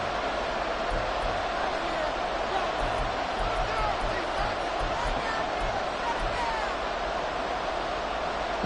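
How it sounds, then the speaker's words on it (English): Stadium crowd noise during a Chiefs third-and-goal play in the Madden 24 football video game, a steady roaring hubbub of a large crowd, moderately loud and unbroken. "This crowd doing all they can."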